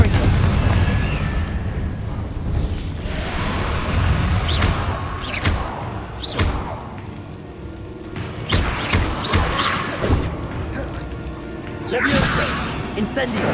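Repeated Confringo fire-spell blasts in Hogwarts Legacy: several sharp, loud explosive bursts spaced a few seconds apart over game ambience, with a voice speaking between them.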